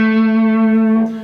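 Electric guitar playing the second part of a pop-rock harmony through effects, a single sustained clean note with rich overtones ringing steadily, loud and close, then fading slightly at the end, with no voices.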